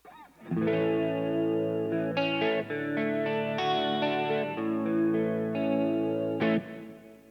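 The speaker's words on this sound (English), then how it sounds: "There's a chorus in there, which is on this bottom foot switch here." Electric guitar chords ring out with a shimmering chorus effect, sustained and layered, changing every second or so with a slight distorted edge.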